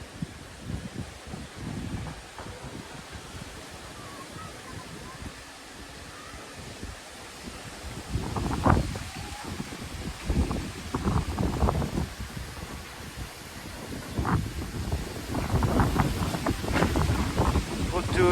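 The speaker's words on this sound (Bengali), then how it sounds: "কিন্তু দেখেন ঝড় উঠাইতেছে।" Strong gusting wind of an approaching storm outdoors in a riverside village, roaring steadily with heavier gusts and buffeting the microphone, and trees thrashing under it.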